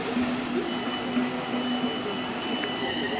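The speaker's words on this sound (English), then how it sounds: "The 1510 to Birmingham New Street is now heading off." The 1510 train to Birmingham New Street departs Stafford station on the West Coast Main Line, a steady moderate rumble with a faint tonal hum and a brief high squeal near the end.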